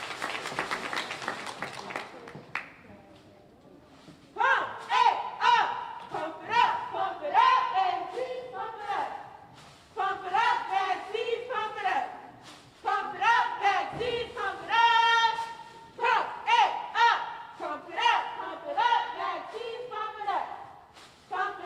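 Hill House cheerleaders perform a cheer at a youth vaccination event, voices chanting in loud rhythmic bursts with pauses between lines, over a faint crowd.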